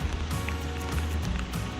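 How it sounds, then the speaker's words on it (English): Rain falls steadily on a camera and the ground at an outdoor Porsche rally stage, a dense, even hiss with soft drop patter close to the microphone. "It's still raining, camera's soaked, obviously weather sealed, not waterproof though"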